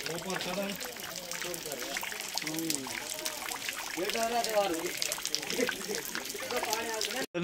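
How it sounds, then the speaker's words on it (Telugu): Spring water pouring down from above like rain at a forest pilgrimage spot, a steady broad splashing and trickling that runs throughout, with people talking over it. "ఒక వర్షం పడ్డప్పుడు ఎట్లా వస్తుందో అట్లా వస్తున్నాయి నీళ్ళు"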